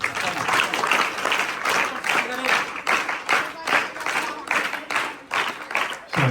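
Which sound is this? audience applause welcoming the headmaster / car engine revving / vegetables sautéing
audience applause welcoming the headmaster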